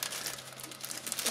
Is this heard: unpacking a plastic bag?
yes